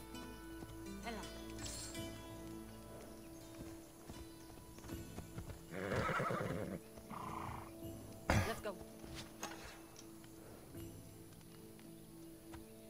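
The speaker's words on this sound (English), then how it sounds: "It's a horsey," A horse in the video game Assassin's Creed Odyssey clops along in soft rhythmic hoofbeats, with a brief burst of whinnying midway, under quiet game ambience and a player's talk.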